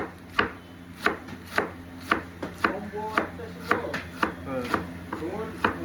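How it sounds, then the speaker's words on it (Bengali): A knife chops cabbage on a cutting board in a home kitchen, a close, evenly paced series of sharp knocks about twice a second with soft crunching between strokes and faint background voices. "বাঁধাকপিটা কাটা শেষ বাঁধাকপিটা কাটার পরে কাটবো গাজর"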